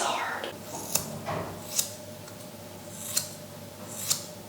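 Scissors snip hair while cutting it into a bob, four sharp isolated clicks spaced about a second apart over a quiet room hum, fairly faint and close.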